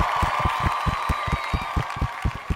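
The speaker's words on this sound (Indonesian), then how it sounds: "Tepuk tangan." Rhythmic hand clapping during a podcast, about a dozen evenly spaced sharp claps close by over a sustained tone, roughly four per second.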